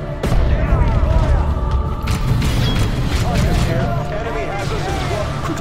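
Battle noise from Dawn of War II: Chaos Rising, a dense, continuous wash of gunfire, mechanical clatter and booming explosions throughout, with voices shouting over it.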